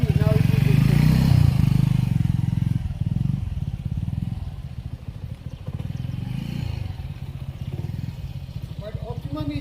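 A motorcycle engine held in the clutch friction zone at low speed, a close, steady low-pitched chugging throb with slight clatter, under someone talking.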